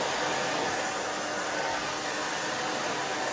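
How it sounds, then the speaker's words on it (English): A hair dryer blows with a constant loud, airy whoosh, close by and unbroken throughout. "the blow dryer, back and forth"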